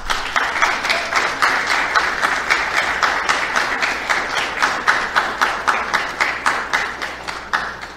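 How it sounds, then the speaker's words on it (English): An audience in a lecture hall claps steadily and almost rhythmically for several seconds, a dense, even applause with no voices over it. "Please welcome, with big round of applause,"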